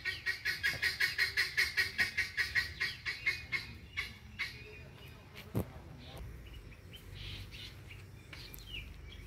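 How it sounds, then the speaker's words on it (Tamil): A guinea fowl gives a rapid run of harsh, rhythmic cackling calls that slows and fades, followed by quieter outdoor background sounds. "கிங்கினி கோழி பாருங்கள்."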